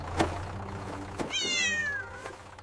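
A single cat meow, rising then sliding down in pitch, heard close and clear over a faint background hum.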